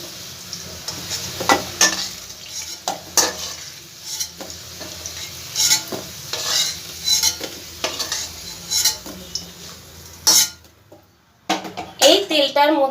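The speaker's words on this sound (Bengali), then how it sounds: "দেখো আলুগুলো আমার খুব ভালো করে ভাজা হয়ে গেছে।" Potatoes fry in oil in a pan with a steady, close sizzle, broken by repeated scraping and stirring clinks of a utensil, while someone talks over it.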